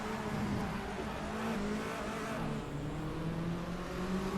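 Racing car engine in a video game, a Fiat Tipo Competizione lapping Barcelona's moto circuit, hums at a steady high pitch with shifting tones as it accelerates and changes gear, fairly quiet and continuous.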